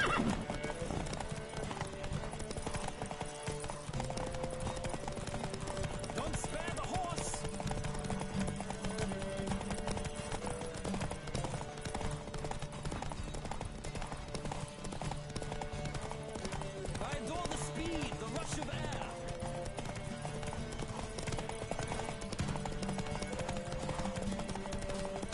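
Horses gallop in a race in The Witcher 3, a continuous dense clatter of hoofbeats with occasional whinnies, loud and close, while voices call out over the running horses.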